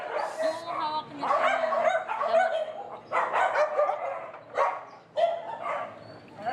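Several dogs at a dog shelter barking, yipping and whimpering close by in irregular bursts that fill the clip, with people talking among them.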